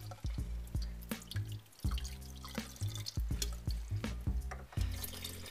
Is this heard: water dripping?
yes